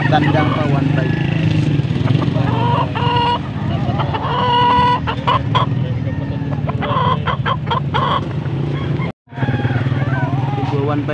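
Chickens cluck and a rooster calls among a busy crowd of talking voices at a poultry market in Angeles, Pampanga, with a motorcycle engine running nearby.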